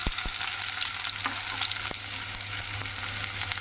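A medium onion, a small piece of cinnamon and three cloves fry in hot oil with a constant close sizzle, broken now and then by sharp clicks of stirring.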